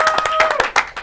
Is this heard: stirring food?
no